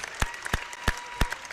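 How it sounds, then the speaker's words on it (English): A crowd applauds seniors at a high school basketball game, heard as sharp, well-spaced claps standing out over a faint, steady arena murmur. "these guys will get my clapping every single night of the week."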